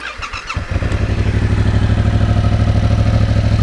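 A Yamaha MT-07 motorcycle engine starts with a short clatter, then settles into a steady, throbbing idle close by, loud and even.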